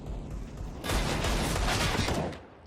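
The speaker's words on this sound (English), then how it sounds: "Desperate wall bangs at A main, but Apex pushing up does find Stewie." Gunfire in a Counter-Strike match between G2 and Cloud9 at the ELEAGUE Major 2018, shots fired through walls; a dense, sustained burst of loud firing that swells after a quiet start and fades near the end.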